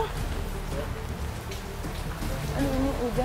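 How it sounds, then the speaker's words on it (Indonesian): Steady rain falls outdoors, a continuous hiss of drops on surfaces, with a person talking briefly over it. "aduh, ini hujan lagi"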